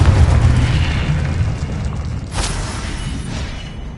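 A Confringo blasting spell goes off in the Hogwarts Legacy video game, giving a loud booming burst with a rumbling tail and a sharp crackle partway through.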